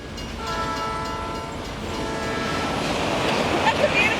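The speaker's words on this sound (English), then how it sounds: "That's a beautiful train!" Passing train blowing its horn in two long sustained blasts, loud and fairly close, with the rumble and clatter of rail cars building underneath and a voice speaking over it.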